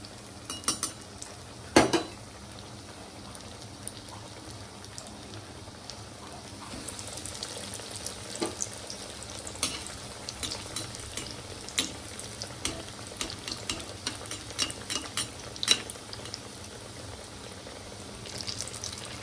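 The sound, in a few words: fish fry frying in hot oil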